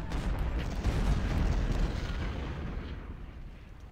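Artillery batteries firing in a Civil War battle at Crampton's Gap in Ultimate General: Civil War, a dense, continuous rumble of distant cannon blasts that swells and then slowly fades.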